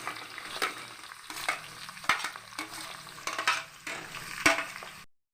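Green chillies and onion frying in oil for a gongura prawn curry, a steady close sizzle broken by several sharp stirring scrapes and clatters of a utensil against the pan, ending abruptly.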